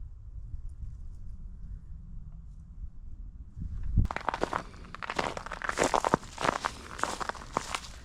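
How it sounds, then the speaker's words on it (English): Footsteps crunch over frozen mud and dirt during a solo winter hike near old farm ruins, starting abruptly after a quiet stretch and then running as a close, irregular series of crisp crackling steps. "Ground is so frozen it's making a crunching noise just on mud and dirt here"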